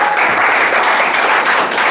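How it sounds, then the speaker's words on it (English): An audience at a school class reunion night, a reception-style event, gives loud, continuous applause, a dense roar of many hands close by that stays level throughout. "A round of applause for our first."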